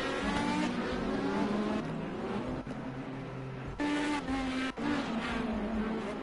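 IndyCar race cars in a racing video game, from an online league's 2018 season opener, scream past with high, sustained engine whine that briefly dips and surges as they shift and pass.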